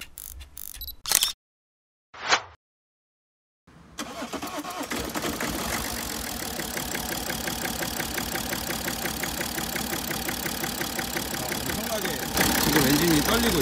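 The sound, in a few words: diesel car engine idling roughly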